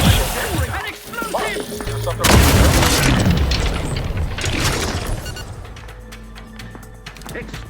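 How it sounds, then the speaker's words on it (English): A heavy explosion booms in a sci-fi shooter video game near a ship's airlock, with a sharp blast followed by crashing debris and a rumbling tail, alongside other game sounds and voices. "Explosion!"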